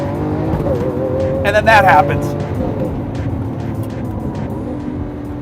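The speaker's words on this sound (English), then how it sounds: "The engine is ferocious sounding." A Lamborghini Aventador's engine roars and crackles sharply on a manual downshift, with a brief high burst, while someone talks over the steady engine drone.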